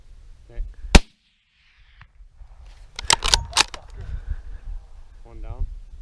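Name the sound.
shotgun firing at deer while hunting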